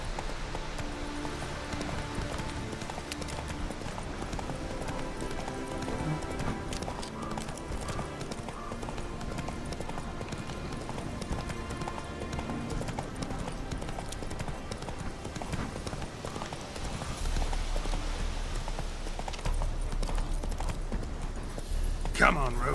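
Hooves of the horse Roach clip-clopping at a gallop in The Witcher 3: Hearts of Stone, a steady rhythmic beat running throughout, close and moderately loud over game ambience, with a voice speaking during the ride.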